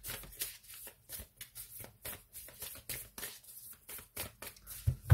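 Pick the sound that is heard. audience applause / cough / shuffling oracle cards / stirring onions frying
shuffling oracle cards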